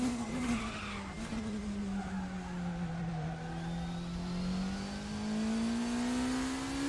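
A race car in the RaceRoom racing game downshifts into a hairpin, its engine note sliding down in pitch then climbing steadily as it pulls out, loud and continuous with tire noise underneath.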